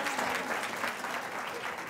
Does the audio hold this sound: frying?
no